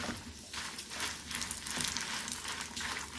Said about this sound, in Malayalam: വറ്റൽമുളക് ഒന്ന് നന്നായിട്ട് ചൂടാക്കി എടുക്കണം.